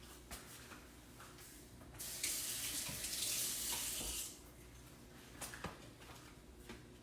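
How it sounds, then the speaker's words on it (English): Kitchen tap running into a sink for about two seconds as hands are wetted, a steady broadband hiss that starts and stops abruptly amid quiet room noise. "I'm going to go across to the sink and get my hands slightly damp"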